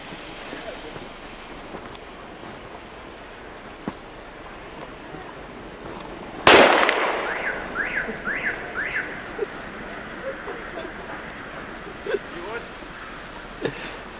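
A small firecracker bought at a central market in Ternopil goes off outdoors with a single sharp, loud bang midway, followed by fading echoes and wind noise, with people talking before and after.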